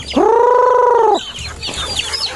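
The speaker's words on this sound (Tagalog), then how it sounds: "Yan ang mga manok ang aking inaalagaan" A chicken gives one loud, drawn-out squawk up close, followed by softer scattered clucks.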